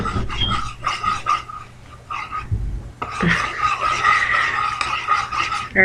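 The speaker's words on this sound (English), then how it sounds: "It's my dog" A dog pants rapidly close by, broken by soft whimpers and brief pauses, the breathing bursts coming in quick uneven runs.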